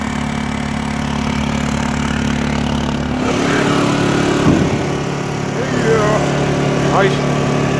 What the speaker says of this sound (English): Nice 9-inch fan on high, really blowing good.